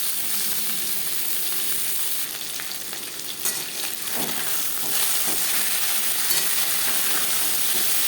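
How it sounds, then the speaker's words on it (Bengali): Marinated tangra fish fry all together in a large wok, producing a steady, close hissing sizzle with brief bursts of sputtering and stirring scrapes midway, and no voices. "আমি একবারেই ভেজে নিচ্ছি যেহেতু আমার কড়াইটা বড় রয়েছে"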